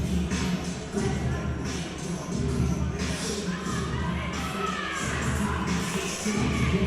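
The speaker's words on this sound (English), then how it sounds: "Crowd getting behind her now." A crowd at an Australian powerlifting nationals roars and cheers steadily as a lifter attempts a deadlift. The loud, dense, sustained noise swells in waves with shouts rising above it.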